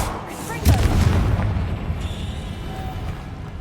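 In Hogwarts Legacy, a Confringo spell goes off with a single loud, close explosive boom that quickly fades into a rumbling tail.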